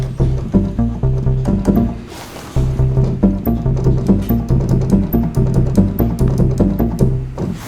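A pulsing synth bass line repeats in a steady rhythm, with hard-panned echoing delay repeats trailing each note and a brief pause midway.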